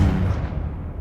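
Confringo, the explosive spell in Hogwarts Legacy on Xbox Series S, lands as a single heavy booming blast that quickly decays into a fading rumble.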